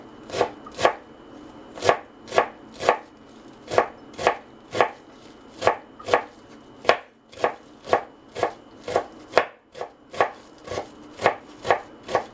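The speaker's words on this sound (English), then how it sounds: "Now let's cut finely and add some dill." Knife finely chopping cabbage and dill for a green cabbage salad, steady rhythmic chops against a board, about two per second, close and crisp with no talking.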